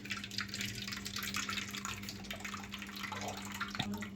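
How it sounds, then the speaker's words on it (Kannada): Soaking water for a North Karnataka style bhajji (sabji) is poured into a cooking pot, a steady close trickle and splash running continuously under a faint background hum. "ಈಗ ಆ ನೀರನ್ನು ನಾವು ಇದರಲ್ಲಿ ತಕ್ಕೋತೀವಿ."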